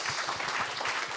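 An audience applauding at a Suwon civic youth forum, a short burst of steady, dense clapping at moderate volume.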